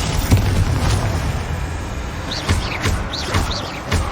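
Spell explosions in the video game Hogwarts Legacy: several loud booming bursts at a steady pace over a rumbling battle backdrop, with a few short chirping swoosh effects near the end.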